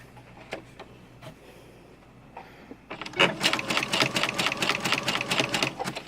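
A sewing machine running a zigzag stitch with brown thread and a brown bobbin: a few faint clicks at first, then a loud burst of rapid, steady mechanical stitching that continues to the end.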